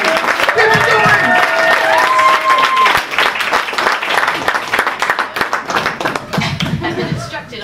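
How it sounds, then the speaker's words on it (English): Applause from a comedy-night audience is loud and dense at first, then thins into scattered claps, with some voices and chuckles mixed in. "Give a big round of applause."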